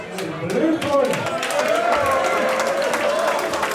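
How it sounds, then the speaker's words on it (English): Audience applause and crowd noise fill an amateur boxing hall after a split-decision bout, with a steady wash of clapping and a ringing announcer voice over it. "Big round of applause."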